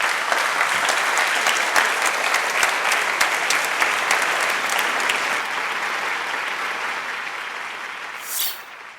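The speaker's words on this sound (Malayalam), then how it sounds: "നല്ലൊരു ക്ലാപ്പ് കൊടുക്കാം അവർക്ക് വേണ്ടി" An audience claps in a steady burst of applause that fades slightly toward the end.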